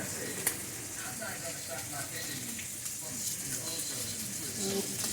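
Sliced sausage and green bell pepper sizzling together in a pot, a steady crackling fry under a person talking throughout.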